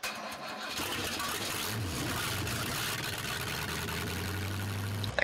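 A fire truck's engine in Farming Simulator 17, fitted with an older-style engine sound, cranks over and settles into a steady, fairly loud rumbling idle that continues to the end, with no talking.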